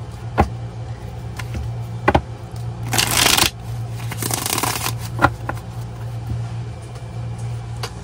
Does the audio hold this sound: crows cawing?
no